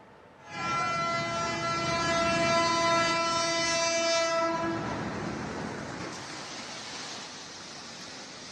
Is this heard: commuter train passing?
yes